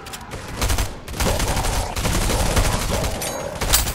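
Dense bursts of rapid automatic gunfire in a Fortnite-style shooter video game, loud and continuous across the moment with brief gaps between volleys.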